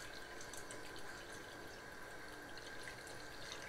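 Water poured steadily into a pot of squid being cooked with potatoes in a thick sauce, a continuous close splashing rush with no talking.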